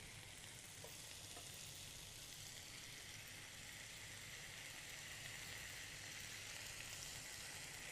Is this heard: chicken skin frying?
yes